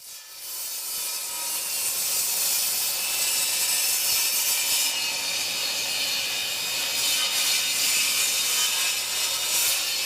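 Table saw on a sled with a stop block cutting wood for a king size headboard, giving a steady, loud, continuous whirring rasp that builds up within the first second and holds at an even level throughout, with no voices.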